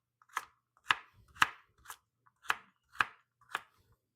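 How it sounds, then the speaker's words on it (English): Seven sharp knife chops through celery on a cutting board, evenly spaced at roughly half-second intervals, close and crisp with quiet gaps between strokes. "And this smaller part I'm just going to cut into fourths because it's a little bit thinner"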